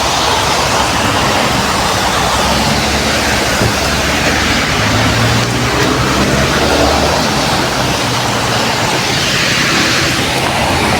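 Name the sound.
rain falling in the evening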